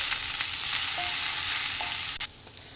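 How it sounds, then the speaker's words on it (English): Sliced onions with salt sautéing in a pan, a loud continuous sizzle close up with a few soft scraping stirs, briefly dipping near the end, no speech. "Saute the onions until they are translucent."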